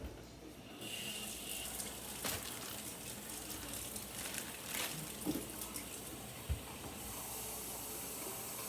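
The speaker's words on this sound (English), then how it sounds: "Dip it with a little bit of water, and I don't want it soaked in water" Tap water running steadily into a sink as food is dipped in it while cooking dinner, a continuous close hiss with a few clinks and knocks along the way.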